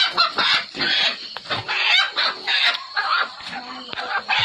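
A chicken clucks and squawks loudly and close by in repeated agitated bursts, with some farmyard commotion around it and no clear speech.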